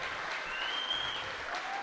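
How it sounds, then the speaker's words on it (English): A live audience applauds steadily and evenly, with dense clapping filling the room at moderate volume and no pauses. "when you get an applause like that"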